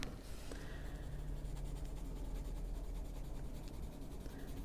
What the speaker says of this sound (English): It's been a while since I colored a face with pencil